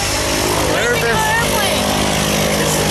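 Small airplane engine droning loudly from inside the cabin before a tandem skydive, a steady dense roar filling the whole clip with people talking over it.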